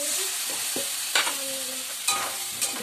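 A splash of water goes into a frying mixture as it is stirred in a pan, giving a close sizzle with a few sharp bursts and spoon scrapes, no voices.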